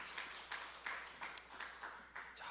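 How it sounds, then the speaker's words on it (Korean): Church congregation clapping after a prayer, faint rhythmic applause in repeated bursts about every third of a second, soft and slightly distant in a large room. "귀한 박수 주시면 감사하겠습니다."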